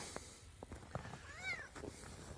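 A cat meows close by, one clear rising and falling call midway through, amid light rustling and small knocks.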